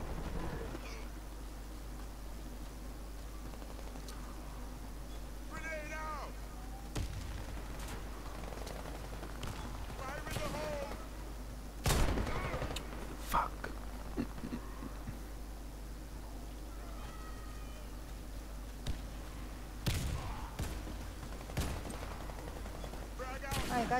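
Video game combat with scattered gunshots and a few sharper blasts from grenade explosions, moderately loud bursts spaced apart over a low steady background.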